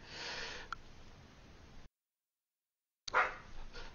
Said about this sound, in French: Excusez pour le chien.